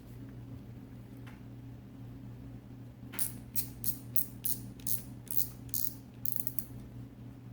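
Drag clicking on a Shimano Curado DC 150 baitcasting fishing reel, a quick series of close, sharp ratcheting clicks over a steady low hum.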